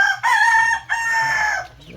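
A rooster crows loudly and close by, two long, ringing calls one after the other, the second fading into a short trailing note.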